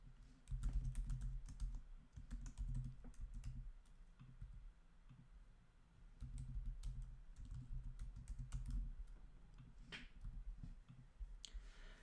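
Typing on a computer keyboard while entering variable levels in SPSS software, a steady run of close, crisp key clicks in uneven bursts with short pauses, no voices.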